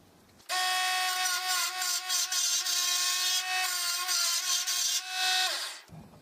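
A DC 24V mini lathe spins a wood bead blank while a hand chisel cuts into it, giving a loud, steady, high whining scrape that starts abruptly and stops sharply about five seconds later.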